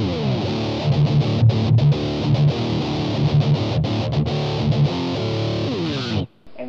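Electric guitar with heavy distortion playing a rhythm, loud chugging chords in a steady pattern that end abruptly near the close.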